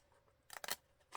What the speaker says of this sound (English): So the first thing I'm going to do is grab my scissors,